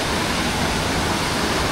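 Pinagmunan waterfall in Nagcarlan, Laguna, on a rainy day pours out a dense, steady roar of rushing water, loud and close, with no voices.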